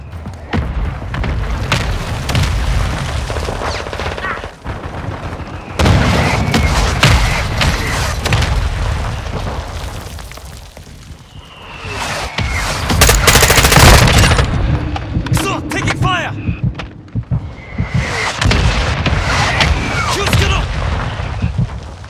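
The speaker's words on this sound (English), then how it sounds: "Hostile mortar strike incoming." Mortar strike explosions in Call of Duty Modern Warfare 2 multiplayer, heavy booms and rolling blasts mixed with rapid gunfire, loud and dense throughout with brief lulls between bursts.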